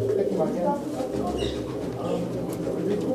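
Lal chini pigeons coo softly in a loft, low murmuring calls under someone talking close to the microphone.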